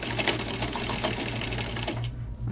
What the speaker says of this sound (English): I'm just going to sew around this edge right here